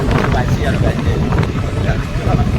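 Wind roars steadily against the microphone while riding a booked scooter, a constant low rumble with no breaks, under brief speech.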